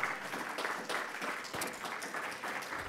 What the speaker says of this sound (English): let's all give them a round of applause for what they have done